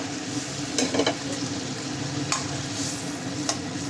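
Fried bhola fish going into a simmering mustard-oil curry with a little water, a soft steady sizzle with a few sharp clinks and scrapes of a spoon, close and fairly quiet, no voices.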